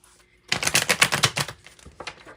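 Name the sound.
tarot cards being shuffled and pulled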